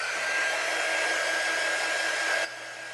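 A hair dryer blows steadily and loudly on a handmade snowman craft piece, a constant broadband whoosh that drops in level near the end as the airflow shifts or the dryer moves away.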